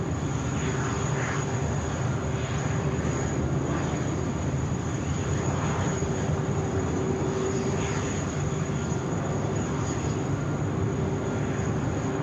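On a Sydney Airport runway, a jet on its takeoff roll gives a loud, steady roar with a thin high whine over it. The sound holds the same level for twelve seconds with no voices.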